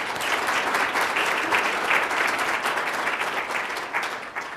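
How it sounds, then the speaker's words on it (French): An audience at a French-language conference on multichannel communication bursts into sustained applause, a dense, lively clatter of many hands clapping at even strength throughout. "Je pense que ça mérite une bonne main d'applaudissements"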